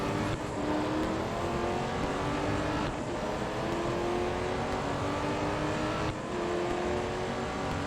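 A race car engine in a racing video game drones steadily at high revs, with brief dips at gear changes and a passing Ford GT nearby, loud and continuous with no talk.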